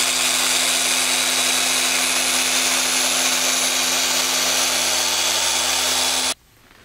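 A 3-inch power buffer whirs at constant high speed while polishing a ceramic coating on an E30 car with a turbo M50 engine, a loud, even drone that stops abruptly near the end.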